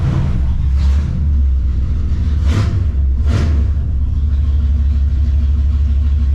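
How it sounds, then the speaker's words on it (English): A 1982 Camaro Z28 small-block Chevy V8 idling loud and steady, with a deep rumbling close by and a couple of brief swells in the exhaust note. "She's loud. The small block Chevy is usually pretty good though."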